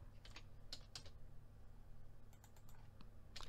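A few light clicks of keys being typed on a computer keyboard, sparse and close, with an Enter press among them over a quiet room hum.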